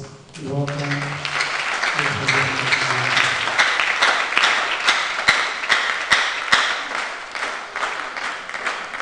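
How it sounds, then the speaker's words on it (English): An audience at a formal plenary assembly breaks into sustained applause, dense even clapping from many hands that swells and holds; a speaking voice is briefly heard at the start. "So with a round of applause, we welcome."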